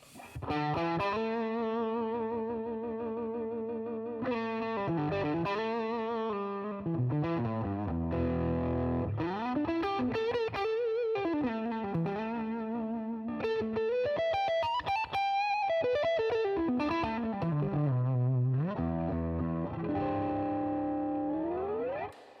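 A Relish Jane electric guitar on the neck pickup, heavily distorted with effects, playing sustained notes and sliding bends in a continuous passage, no talking.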